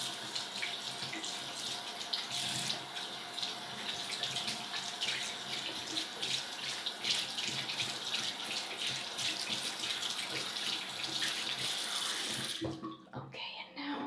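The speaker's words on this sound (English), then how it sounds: "And now we'll rinse that out." Running tap water rinses hair at a salon sink in a steady, close hiss with soft splashing, ending abruptly when the flow shuts off near the end.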